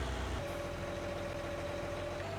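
Farm tractor engine idling, a steady low rumble with a constant humming tone, continuous and fairly close throughout.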